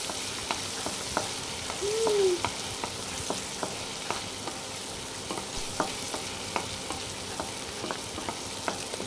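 Boiled hakka noodles stir-fried in an oiled pan, a steady close sizzle broken by regular light scraping strokes of the spatula over about nine seconds, with no voices.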